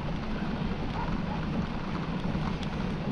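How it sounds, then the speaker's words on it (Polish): Frosty winter wind buffeting a microphone outdoors at night, a constant dense rumbling roar with no breaks and no talking. "ale w twarz trochę tak taki wiaterek mroźny wieje"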